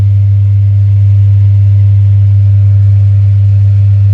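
A steady low electric motor hum from an egg incubator drones continuously and loudly, unchanging throughout, with no voices.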